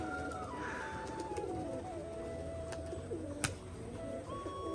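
Pigeons including a white male cooing in repeated soft, throaty calls at close range, steady and unhurried over a light ambient background with a few sharp clicks, no talking.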